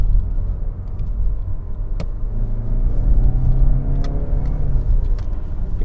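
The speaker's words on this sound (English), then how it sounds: "So I'm just going to drive at 50. I'm going to floor it." A 2021 Mazda CX-30 GT accelerates hard at full throttle from around 50, its engine note rising steadily through a continuous rumbling drone from inside the cabin, with a few faint clicks along the way.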